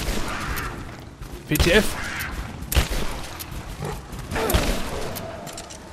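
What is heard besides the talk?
shotgun shots in video game Rise of the Tomb Raider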